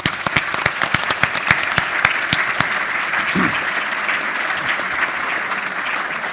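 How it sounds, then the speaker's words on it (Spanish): Applause at a Forbes event, a steady rush of many hands clapping at full strength for several seconds, with a few sharp individual claps standing out near the start. "darles el agradecimiento de Forbes con un gran aplauso"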